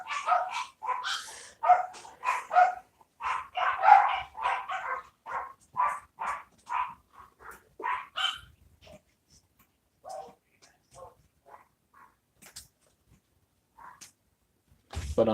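Dogs barking in a rapid run of sharp woofs, dense and fairly close for several seconds, then tapering into sparser yips and quiet gaps with no talk over them.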